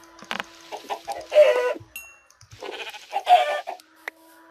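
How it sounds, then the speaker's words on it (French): Chickens clucking in a video game, a few short bursts of clucks and squawks close by with quiet gaps between them. "Oh ouais, des poules."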